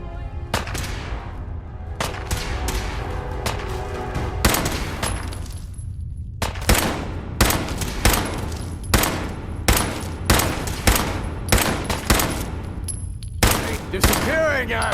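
Rapid gunfire in Fallout 4, loud and close, with repeated sharp shots and bursts in a steady rhythm after an opening volley, over a low rumbling background.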